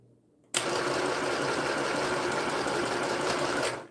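A sewing machine starts abruptly after a moment of quiet and runs at a steady, fast, even whir for about three seconds before stopping, close and alone with no talk.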